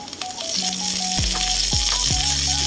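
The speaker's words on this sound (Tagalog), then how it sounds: "pwede na po yung gisa na po natin yung bawang" Garlic sautés in hot cooking oil for adobong puso ng saging, making a steady, loud broadband sizzle throughout. Tonal background music plays over it.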